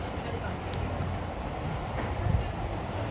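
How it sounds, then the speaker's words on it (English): A train runs through Akihabara, Tokyo with a steady rumbling roar of rolling wheels amid busy street ambience, while a person talks over it. "So you can see the actual trains will run through,"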